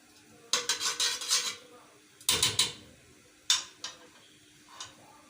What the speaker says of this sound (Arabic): هاخد معلقه من السمنه كده